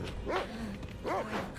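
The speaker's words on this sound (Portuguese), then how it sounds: "O cão." A dog barks twice in the LEGO Harry Potter video game, two short rising-and-falling yelps spaced about a second apart over a low game soundscape.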